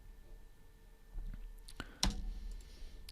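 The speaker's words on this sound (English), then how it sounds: "So I'm going to click OK." Computer mouse clicks OK in software with a few sharp, close clicks, the clearest near the middle. They sit over a quiet room hum with no talk.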